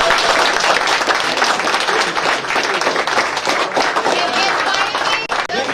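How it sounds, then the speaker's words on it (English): Loud, sustained audience applause filling the room, dense clapping continuous throughout with a brief dip near the end. "please give them a big round of applause."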